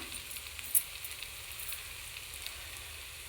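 Onions and tomatoes fry in a pan with turmeric and chili powder, giving a soft, steady sizzle with a faint crackle. It stays low and continuous, with no talking.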